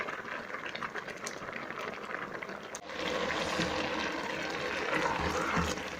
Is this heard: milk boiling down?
yes